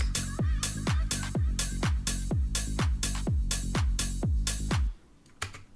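Tech house drum loop with shakers, hi-hat, claps and rides over a punchy four-on-the-floor kick, driving and regular for about five seconds before cutting to a few sparse hits.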